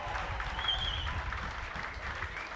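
Edinburgh rugby bench players clap during their warm-up at a match against Newcastle Falcons, a steady soft patter of applause, distant and faint under ambient stadium noise.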